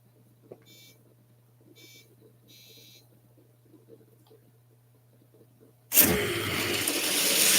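A hot rod and a roadster launch side by side at a drag race, engines suddenly erupting into a loud, roaring blast after a stretch of low idle hum and faint beeping tones, the roar sustained and building to the end.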